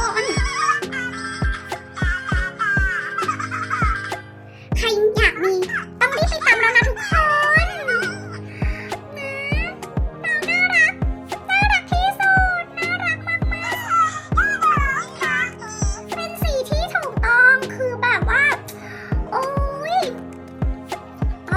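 High, warbling electronic voice of a mini Furby keychain toy chattering and giggling in quick bursts, close and fairly loud, with a few squeaky laughs.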